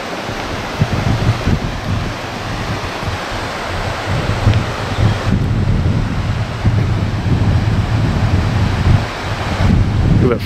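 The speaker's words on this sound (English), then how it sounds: "check this river out. This is the Mint River." The Mint River rushing past as fresh water, a dense, continuous roar of flowing water that stays loud and steady throughout, with no talk heard.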